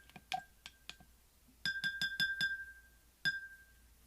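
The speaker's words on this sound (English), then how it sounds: "And stir it in real good." A utensil stirs candle wax in a glass container, giving a run of bright clinks against the glass: a few scattered taps, then a rapid burst of ringing knocks and one last clink, close and alone.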